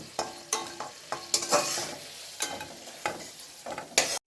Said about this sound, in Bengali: ওই তেলের মধ্যে আমি আলুগুলো কষে নেব।